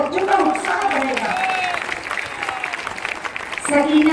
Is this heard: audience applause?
yes